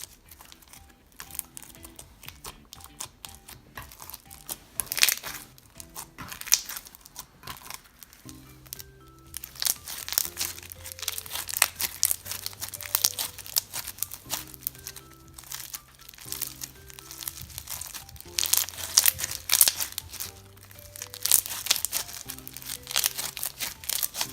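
Activated slime from an Etsy shop gets squished and crinkled up close for ASMR, an irregular stream of crackling, popping and squelching bursts, sometimes loud, with no talk.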